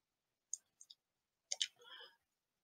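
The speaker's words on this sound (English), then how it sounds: "So if we click on this passage of Cicero's Tusculans," Mouse clicks while selecting a passage in a Latin dictionary program on a computer: a few sharp, quiet clicks spaced apart, followed by a short burst of soft clicking and rustle, close and isolated in otherwise silence.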